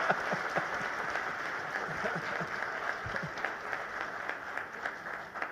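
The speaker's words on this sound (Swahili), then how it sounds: "let's put our hands together to piga makofi mengi sana." An audience applauds at the launch of a five-star hotel in Arusha, giving a steady wash of clapping from a large crowd that holds an even, moderate level throughout.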